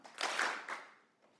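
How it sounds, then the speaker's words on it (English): A workshop audience claps in unison, with a strong first clap, a softer second and a faint third, each fading quickly in a quiet room. "On the count of 3, you will clap thrice."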